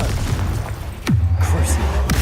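A sharp Confringo explosive spell blast in the Hogwarts Legacy video game, one sudden loud boom followed by a low rumbling tail, with a second crack near the end.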